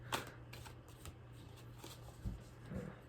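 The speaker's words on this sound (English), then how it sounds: "I like to shuffle them when I'm here." Quiet, close shuffling of tarot cards, with soft riffling and a few light taps and knocks in a hushed room.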